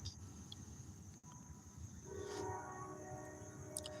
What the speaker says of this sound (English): I hear that train a-coming. It's rolling down the track.